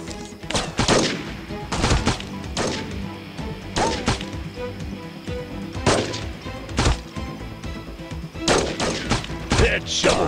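Sniper rifle shots in the mobile shooter Sniper Arena: PvP Army Shooter, a series of sharp, loud cracks spaced irregularly, some in quick pairs, with game announcer voice callouts mixed in.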